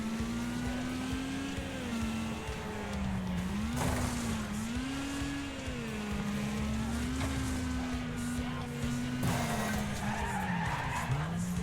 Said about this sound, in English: I decided to take an opportunity to crash into a low health opponent there and I damaged my own wheel